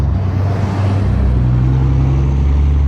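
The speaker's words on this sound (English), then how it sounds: "I got a dump truck coming in behind me" A dump truck coming up behind a recumbent bicycle on a city street, heard as a loud, steady low engine rumble that rises slightly in pitch partway through, with road noise and no talk.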